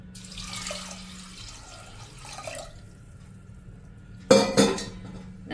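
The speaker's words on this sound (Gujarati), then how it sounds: "એમાં આપણે 3 ગ્લાસ જેવું પાણી પણ નાખી દેશું" Water from a glass pours into a pressure cooker holding dal: a soft splashing pour over the first seconds, then after a pause a sharp metallic clank of vessels.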